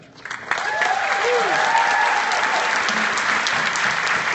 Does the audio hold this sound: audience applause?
yes